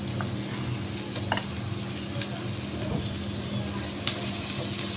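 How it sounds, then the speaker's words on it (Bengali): Potatoes fry in a pan with a steady low sizzle as a utensil stirs them, making occasional soft scrapes and clinks over the constant hiss, all close up. "আমি আলুগুলো ব্রাউন কালার করে ভেজে নিচ্ছি"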